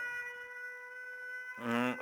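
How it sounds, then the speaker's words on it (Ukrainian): Air raid siren sounding during an air alert, heard as a steady tonal wail for most of the clip before a louder, brighter warbling burst near the end, with no talk over it. "Зараз сирена програє. Повітряна тривога."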